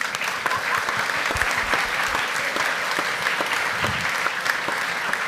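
An audience at a company all-hands meeting claps steadily, a dense crowd of hands producing continuous, fairly loud applause with individual claps popping through, no speech over it.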